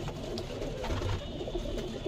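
A pigeon coos softly and repeatedly at close range, low throaty calls under a steady background hum, with no talking.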